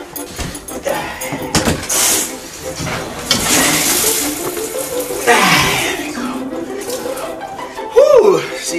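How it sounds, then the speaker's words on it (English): Shower water runs with a broad, steady hissing spray that varies in loudness as it splashes, while a voice speaks over it. "Take a shower."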